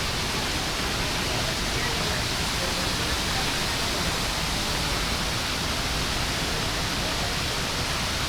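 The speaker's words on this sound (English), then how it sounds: "There's this pretty waterfall right here." Waterfall at a zoo elephant exhibit gives a steady, dense rush of falling water, unbroken and evenly loud throughout, with no voices over it.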